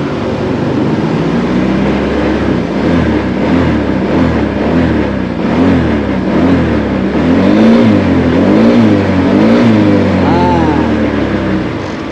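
A cold car engine revs repeatedly while its ECU is being set up for cold-temperature running, and the pitch rises and falls in waves; loud and close, with a voice speaking over part of it.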